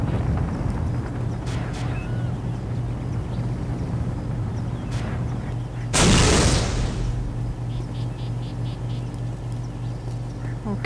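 A single sharp, loud gunshot cracks out in the middle of a Postal 2 game, over a steady low background hum with a few faint distant noises before and after.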